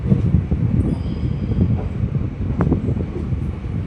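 A Bengaluru to Mysore passenger train moving through Mandya station, a steady low rumble of wheels and carriage noise with wind buffeting the microphone and a brief rattle partway through.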